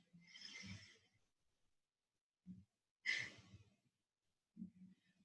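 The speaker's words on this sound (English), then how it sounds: "Exhale through your left." Slow exhalations through one nostril during alternate-nostril yoga breathing, soft and close, with a few quiet breath bursts separated by silence.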